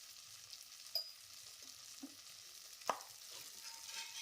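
Tomato chutney with a little turmeric stirred in a frying pan, giving a soft steady sizzle with a few quiet scrapes of the spoon and one sharper knock near the end.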